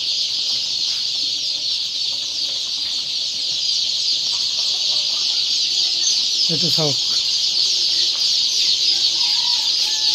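Local chicks and ducklings, including Indian runner ducks, kept for sale make a dense, continuous high-pitched peeping chorus that stays steady throughout, with a brief spoken remark partway through.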